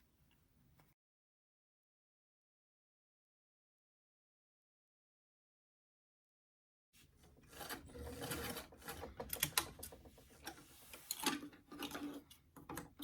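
Stitching runs around the outer edge of a doll's wide-brim hat: after a long silence, a busy mechanical rattle and whir starts and continues fairly close, with uneven clicking pulses.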